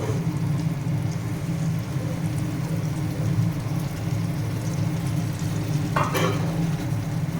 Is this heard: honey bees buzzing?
no